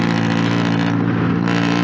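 A loud Honda Rebel 500 motorcycle exhaust rumbles steadily up close on city streets, a deep throbbing engine drone with a raspy edge.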